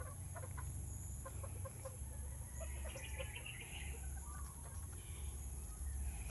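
A few chickens in a small backyard coop cluck in scattered short calls over a low, steady background hum, fairly faint and close by.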